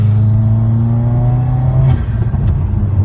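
A 2015+ Subaru WRX with a COBB intake pulls hard in second gear with the windows up, its engine note rising steadily, loud and close, then easing off near the end.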